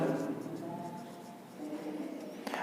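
Chalk or marker writing on a board during a math lecture on differential equations, a steady scratchy rubbing that runs through the clip alongside faint room tone, with no voice over it.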